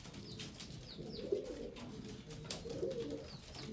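Pigeons in a loft give soft, low repeated coos at a distance, quiet and murmuring, with faint rustling in the background and no speech.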